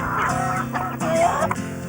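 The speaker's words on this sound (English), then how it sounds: "I find the chickens fascinating animals." Hens clucking close by in a castaway farmyard setting, a short run of overlapping throaty clucks and murmurs with no talk.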